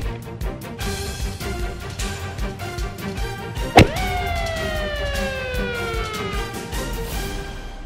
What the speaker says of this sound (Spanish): está sonando una alarma